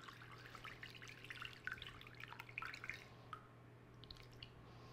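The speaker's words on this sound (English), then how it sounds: "I'm going to add a couple of cups of water." Water is poured from a cup into a baking dish holding winter squash halves laid face down, a soft, steady splashing trickle with scattered drips over a low background hum, fairly quiet and close.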